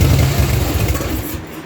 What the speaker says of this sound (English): If anybody knows exactly how a 96 twin cam engine sounds, it's fairly quiet for what it is.